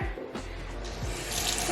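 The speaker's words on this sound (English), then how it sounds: "we have running water" Water runs steadily from a tap into a sink or tub in a bathroom being renovated, a continuous close hiss and splash with no talking.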